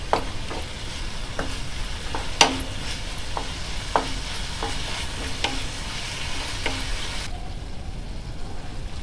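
A spatula stir-fries egg masala for Egg 65 in a pan, with rhythmic scraping strokes over a constant sizzle that stop abruptly near the end.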